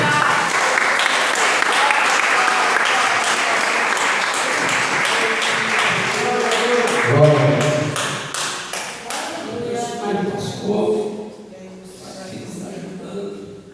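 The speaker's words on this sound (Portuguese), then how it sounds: "as palmas agradecem o nome do Senhor" A congregation claps during a family church service, loud sustained applause that thins into scattered claps as voices rise and speech and singing take over.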